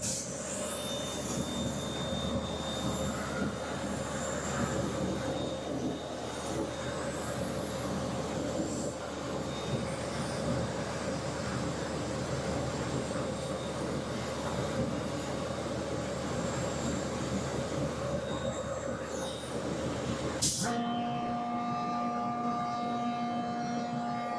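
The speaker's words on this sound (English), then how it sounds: "So now you hear the return blower kick on." The return blower of a CP5250 dust collector at a ready-mix plant produces a loud, continuous rushing roar. Near the end it shifts to a steadier, tonal hum. No talking.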